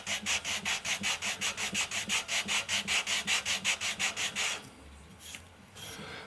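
A wooden archtop guitar neck being sanded by hand with coarse 80 to 120 grit paper: a close, steady series of about twenty rhythmic rubbing strokes, then the stroking stops and a few soft scrapes follow.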